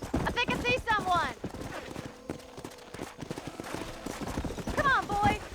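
Hooves clip-clop steadily from a horse in Red Dead Redemption, sounding close and rhythmic while people talk over the riding.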